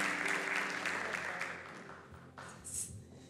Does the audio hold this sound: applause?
yes